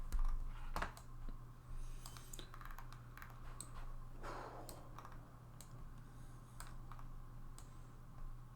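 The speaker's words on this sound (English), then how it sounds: "typing up a storm over there" Quiet, scattered keystrokes on a computer keyboard tick away in a room over a steady low electrical hum, irregular clicks and short bursts of typing without any talk.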